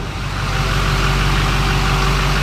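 A Chevrolet Silverado 2500 with a 6.6-liter Duramax turbo diesel idles steadily, a loud close low rumble with a constant hum and no voices.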